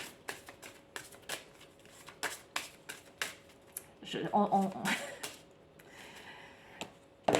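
Small oracle cards being shuffled by hand, a series of crisp riffling flicks spaced through the stretch with a denser burst midway, close and fairly quiet.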